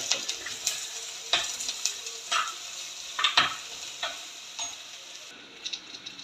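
Green chilies, chopped ginger and curry leaves fry in a pan while a spatula stirs them, a bright steady sizzle with regular scraping clicks up close and no talking.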